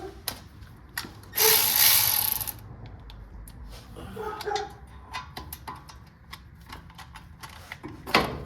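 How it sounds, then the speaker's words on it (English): A ratchet clicks in quick mechanical bursts as brake caliper bolts are loosened on a lifted Chevy van, with one loud sustained whirring grind early on and scattered metallic clicks and knocks afterward, no talking. "Let's pop these caliper bolts off here"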